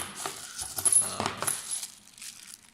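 Small metal screws for a customised orange handlebar riser on a KTM Duke 390 motorcycle, clinking and rattling together in a few quick, close metallic jingles with no talking.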